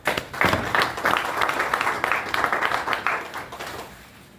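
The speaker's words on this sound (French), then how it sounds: "Vous-même, monsieur le directeur, vous méritez des applaudissements." Audience applause at a partnership agreement signing ceremony, a dense burst of many hands clapping that swells quickly and holds steady before tapering off.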